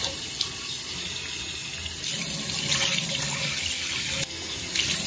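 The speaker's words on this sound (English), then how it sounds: "And now we rinse." Cold water runs steadily from a bathroom tap as a face is rinsed, a continuous close hiss and splash with slight shifts as hands move through the stream, no voices.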